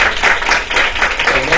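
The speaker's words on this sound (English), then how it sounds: "A round of applause for Connie." An audience breaks into applause at a social media blogging event, a dense burst of clapping that is loud and close for a short moment.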